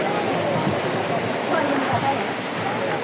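A river rushes below a hillside park path in Dharan, Nepal, its steady, full-bodied water roar continuous and fairly loud throughout.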